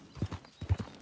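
Hooves clip-clop softly in Red Dead Redemption 2 as a horse walks, with two quick pairs of muffled beats, faint and close.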